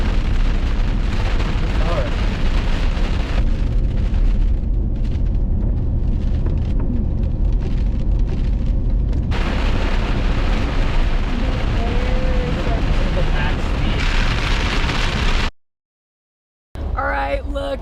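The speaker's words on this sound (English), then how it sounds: "Big ass raindrop." Heavy rain pours steadily with large drops pattering loudly nearby, broken by a brief silence near the end.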